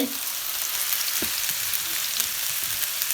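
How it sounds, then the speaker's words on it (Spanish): Potatoes fry in a pan over high heat with a constant, close, bright sizzle, broken by a few small pops and spatters. No one speaks. "Una cosa, estamos cocinando a fuego alto"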